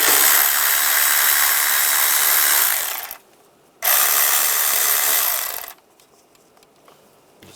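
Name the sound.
10mm socket loosening worm clamps on a Toyota 4Runner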